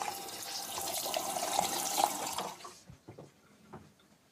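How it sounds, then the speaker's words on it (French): Water runs steadily from a tap for about two and a half seconds while a homemade cosmetic face mask is rinsed off, then cuts off, leaving faint drips and small handling sounds. "Après quelques minutes de pause, Émilie peut rincer son masque."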